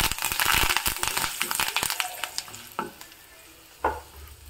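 Curry leaves hitting hot tempering oil with peanuts and turmeric: a loud, crackling sizzle that fades, followed by a few isolated stirring clicks.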